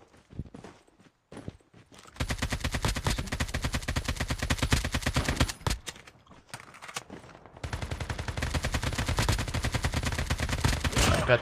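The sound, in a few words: gunfire in Call of Duty Mobile video game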